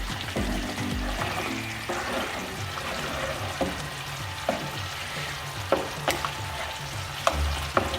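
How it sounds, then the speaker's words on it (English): Jamaican curry chicken is stirred in a pot, a soft bubbling simmer with a low rumble and occasional sharp clinks of a spoon against the pot. "So I'm going to just stir it"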